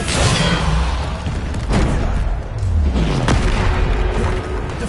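Booming explosions from the Bombarda spell in Hogwarts Legacy, a loud, continuous barrage of deep blasts and rumbling impacts with a few sharper cracks spaced through heavy combat noise.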